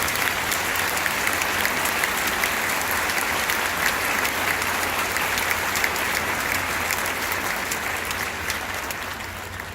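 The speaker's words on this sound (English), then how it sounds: "the person that is in charge of this band needs to get another round of applause" Sustained audience applause for the organizer of an honor band concert, a dense, even wash of clapping that holds steady for about ten seconds and eases slightly at the end.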